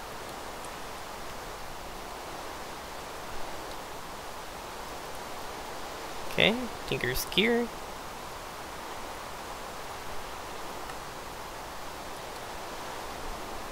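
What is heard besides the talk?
rain in the video game Minecraft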